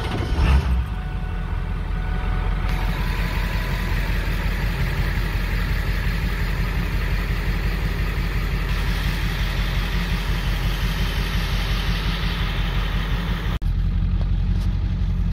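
A Ford Super Duty truck with ABS faults idles and rolls slowly in reverse, its engine giving a steady, close, mid-pitched drone with a brief mechanical clunk near the start and a shift near the end.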